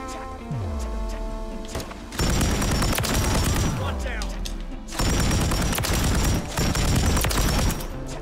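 Rapid automatic gunfire from a weapon in Call of Duty MW3 rattles in two long, loud bursts, with a brief lull between them.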